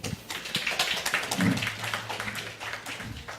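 An audience at a hackathon demo day applauds Team Open Source, with scattered patter of clapping at moderate distance that stays fairly soft and steady for a few seconds.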